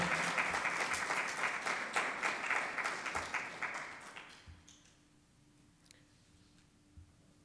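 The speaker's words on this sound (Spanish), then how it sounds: "Dele una ofrenda de palmas al Señor por su amor." A church congregation claps in praise, a dense round of rhythmic clapping that carries for several seconds, then stops abruptly into a quiet room with a low hum.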